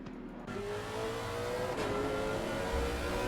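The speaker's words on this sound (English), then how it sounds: "Always forget how loud that engine is before we switch to it. Grunty little thing, but it's a lovely noise." A loud, grunty GT3 race car engine from the Assetto Corsa Competizione game revs hard at the Hungaroring with a steady, rising tone through a gear change. It sounds close and dominant, with no talk over it.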